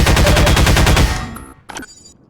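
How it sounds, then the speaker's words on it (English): Rapid, loud mechanical bursts of the Tau cannon energy weapon in Half-Life 2, a dense stream of repeated shots for about a second that fades out, followed by a brief sharp crack. "the Tau cannon is way too loud"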